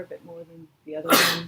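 A single abrupt sneeze bursts out right after a short stretch of speech, loud and close.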